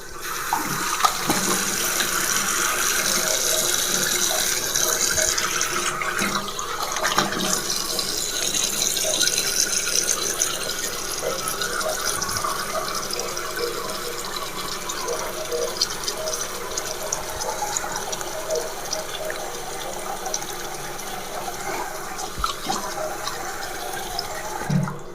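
Cold water runs steadily from a motel bathroom sink tap for a rinse after a shave with a plastic razor, a continuous close splashing flow with no talking.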